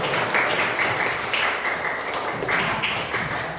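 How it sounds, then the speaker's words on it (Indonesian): Classroom applause from schoolchildren during a lesson, a dense burst of clapping that holds steady for a few seconds, with slight surges in intensity and no clear voices over it. "Tepuk tangan buat kami."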